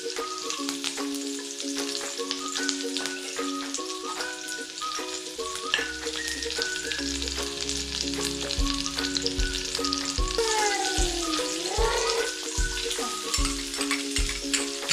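Finely chopped onions frying in a pan with ginger, garlic and green chilli while chicken cutlets are being made, a dense continuous sizzle running throughout, with music playing steadily in the background.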